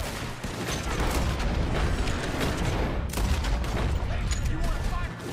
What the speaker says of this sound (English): That's a damn cannon!